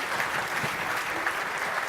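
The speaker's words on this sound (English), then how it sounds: "Let's give them a round of applause" An audience at a panel discussion gives the panel of experts a steady round of applause, a dense, even wash of many hands clapping throughout.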